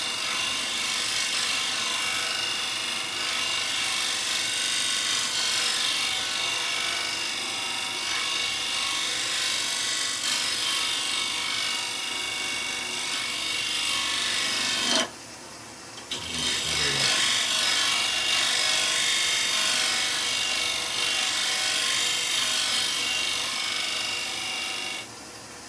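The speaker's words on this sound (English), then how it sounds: "So let's bring that around a little bit more with a scrape, and I'll use the old signature skew for that one." A skew chisel scrapes wood on a spinning lathe while an insert clock is turned, a continuous loud rasping whine that briefly drops out midway and then resumes.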